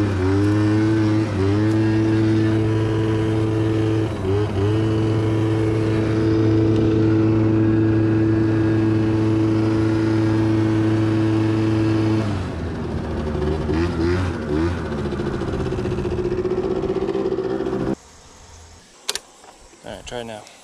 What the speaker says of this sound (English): Should be ready to roll. I'm peeling out.